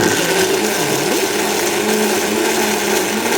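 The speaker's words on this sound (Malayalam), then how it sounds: "ഇനി ഇത് അരച്ചെടുക്കാം" A mixer grinder grinding tomato chutney without water whirs loudly and steadily, its motor droning without pause throughout.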